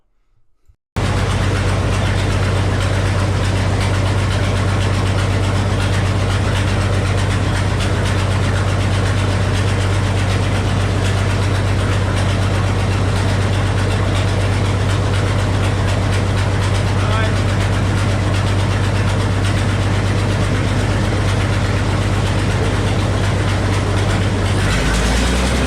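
A 48-inch sawmill's engine idles steadily, a loud low throbbing drone holding constant for nearly half a minute after starting abruptly, with no talk over it.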